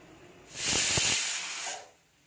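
A pressure cooker whistle releases a loud, sustained hiss of steam for about a second and a half while cooking rice, then tapers off quickly.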